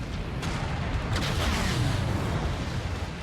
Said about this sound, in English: Maybe we'll just do a missile.